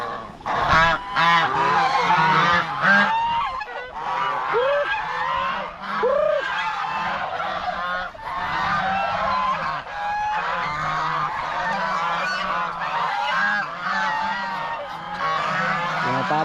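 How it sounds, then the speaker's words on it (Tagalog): Farm turkeys, kept among chickens and guinea fowl, call loudly and continuously in a dense overlapping chorus of gobbles and honking cries, close by, lasting throughout. "Mga pabo natin oh."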